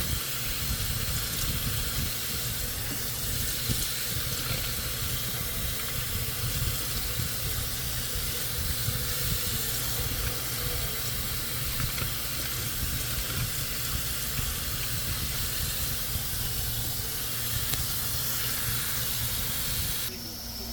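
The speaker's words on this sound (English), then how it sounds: "I need to rinse the choy." Bok choy rinsed under a steadily running kitchen faucet in a sink, a continuous close splashing hiss of water lasting throughout with no break.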